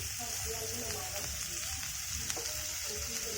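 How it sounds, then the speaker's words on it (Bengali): Cabbage and carrot fry in oil in a pan with a steady, close sizzle that runs unbroken throughout. "হালকা করে বাঁধাকপি আর গাজর ভাজা হয়ে গিয়েছে। আমি আর একটু পরিমাণ মতো তেল দিয়ে দিলাম।"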